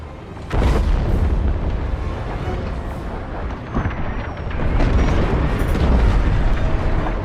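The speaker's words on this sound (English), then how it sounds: "The frigate is about to explode." A frigate explodes in the Star Wars: Squadrons video game: a loud, sustained rumbling blast with crackling bursts, swelling again near the end.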